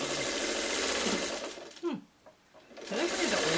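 A sewing machine stitching quilt block pieces whirs steadily, stops briefly with a couple of clicks and a moment of quiet, then starts whirring again close and loud.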